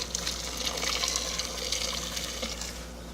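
Water pours steadily into a metal pot holding 1 kg of mutton, a continuous splashing stream close by, with a faint low hum beneath.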